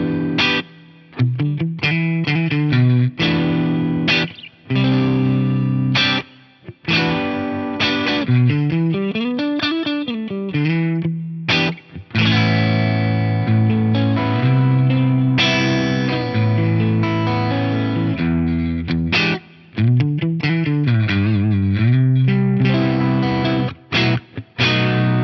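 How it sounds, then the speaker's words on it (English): An electric guitar plays chords and sliding melodic lines through the Line 6 VP4 large hall reverb, with distortion and lush ringing tails that hang in the gaps between phrases. "The default reverb type is the large hall, which I think sounds fantastic."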